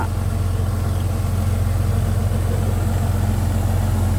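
A Kubota DC-105X combine harvester with a four-cylinder direct-injection engine idles steadily, a loud, continuous low rumble close by with no change in pace.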